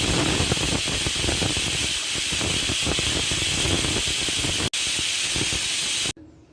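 A pressure cooker whistle is lifted on dal biryani, letting out a loud, steady rush of hissing steam that runs close and unbroken for about six seconds, briefly cut once, then stops abruptly.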